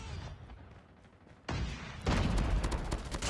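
A burst-fire weapon in an online shooter game's last-stand mode cracks out quick volleys. Quieter distant pops give way to a sudden loud, dense burst of close gunfire that keeps rattling to the end.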